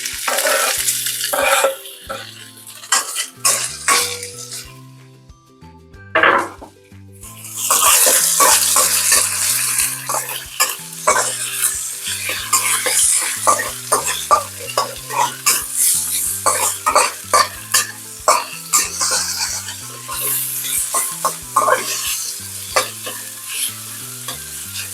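Chicken pieces tipped into a hot pan for a white-sauce dish give a loud, sustained sizzle, broken by clattering stirs and scrapes against the pan, with a rhythmic background beat running beneath.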